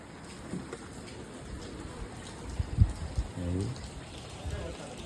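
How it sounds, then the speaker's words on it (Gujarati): Early-morning rain falls steadily in Nadiad, Gujarat, a faint continuous patter with scattered drips and a few soft knocks, while birds call in the background. "આજે તો હવાર હવાર વરસાદ ચાલુ થઈ ગયો જુઓ"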